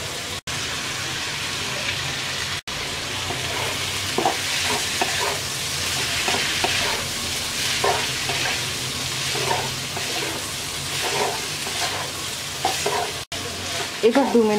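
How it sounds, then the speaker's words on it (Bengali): Vegetables with chicken, egg and shrimp fry together for chicken fried rice, a loud, continuous sizzle close by, broken by repeated scraping stirs of a spatula against the pan. No voices. "এবার আমরা আর 1 মিনিটের মতো ভেজে নেব"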